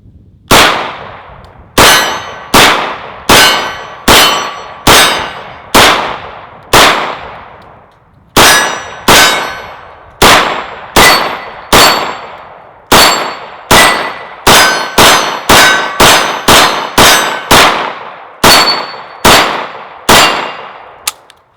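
IWI Uzi Pro 9mm pistol fired in a steady string of sharp, loud, ringing shots, spaced about every half second to second, with no talking between them.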